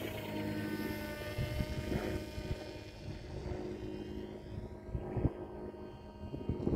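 The motor of an RC autogyro drones steadily as its spinning rotor blades whir through the air in flight, the sound continuous and fairly loud, with a few small bumps along the way.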